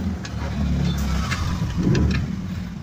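A flood-soaked lathe motor hums steadily after being reconnected to power, a continuous mid-pitched drone throughout, with faint clicks over it and no talking.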